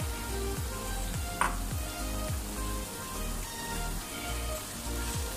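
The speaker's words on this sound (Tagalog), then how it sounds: "Ilagay na natin ang sibuyas." Onions added to marinated beef frying in a pan, heard as a steady, close sizzle with stirring scrapes and a brief sharper clack partway through.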